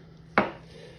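A single sharp chop of a knife through deer meat against a board, one quick impact that rings out briefly in a quiet room.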